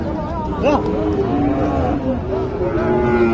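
Large cow mooing at a busy cattle market, a drawn-out low bellow with rising and falling pitch, heard up close over steady crowd chatter and background voices.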